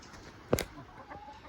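Chickens resting in cold weather give a single short cluck up close, followed by faint soft murmurs.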